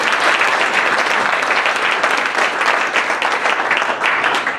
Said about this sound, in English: So let's give all those folks a round of applause.